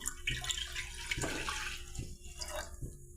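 A cup of water is poured onto used tea leaves in a pan on a gas stove, giving a splashing, gurgling pour with short bursts and drips under a faint background hum.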